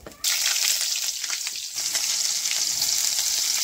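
Bottle gourd stems fry with dried fish in a pan, starting with a sudden loud sizzle after a brief quiet moment and then hissing steadily and evenly up close with no talk.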